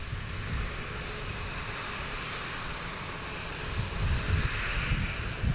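A jet airliner on final approach to runway 4 Left at Boston Logan airport, its engines giving a steady broadband roar that swells slightly toward the end, fairly loud and continuous with no talk.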